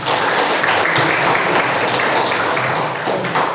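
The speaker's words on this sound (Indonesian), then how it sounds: "Beri aplaus untuk Mas Huda dan untuk kita semuanya" Steady applause from a group after a Quran recitation of Surah Al-A'raf in an Indonesian study session, continuous, dense and fairly loud throughout, with faint voices mixed in.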